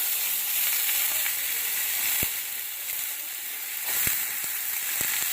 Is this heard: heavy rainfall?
no